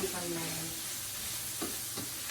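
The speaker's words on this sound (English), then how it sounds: "I'll just stir that in to get all the flavours" A spoon stirs seasoning into black eyed beans cooking in a pan, giving a soft steady sizzle with a couple of brief scraping strokes, faint and close.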